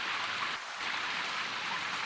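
Heavy rain pours down steadily in a dense, even hiss, constant and close throughout with a brief slight dip, no voices present.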